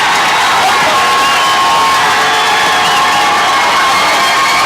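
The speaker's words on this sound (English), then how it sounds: "Malvern crowd on their feet." A high school football crowd on its feet at a Malvern Leopards home game against Nashville, on a fourth-down play, cheers and shouts loudly and continuously, a dense wall of voices with no other sound.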